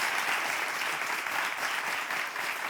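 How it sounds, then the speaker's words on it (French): A dense, steady round of applause from an audience, close and continuous throughout without voices over it. "Ça s'applaudit juste."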